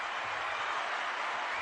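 A short stretch of steady hand clapping, like a small round of applause, even and moderately loud with no pauses.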